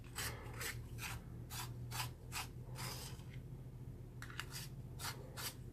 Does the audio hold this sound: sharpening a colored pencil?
yes